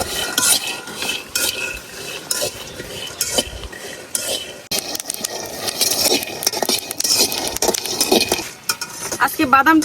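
Peanuts roasting in a wok are stirred steadily, scraping and rattling against the metal in a busy, continuous rhythm with faint sizzling underneath.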